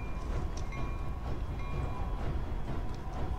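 Steady rumbling train in the Club Penguin Rewritten holiday party game, a continuous dense rolling noise with faint tonal hum running throughout, no talk.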